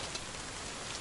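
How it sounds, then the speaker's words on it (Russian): Rain falls steadily in a long spell of bad weather, a dense, even hiss of drops close by with no other sounds. "Весь летний и осенний дождь вот сейчас вот идет."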